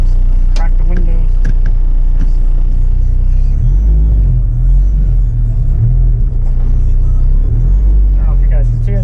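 A Honda EK hatchback fitted with a K24 engine accelerates along a back road, heard as a loud, steady low-end rumble from inside the car with occasional talk over it.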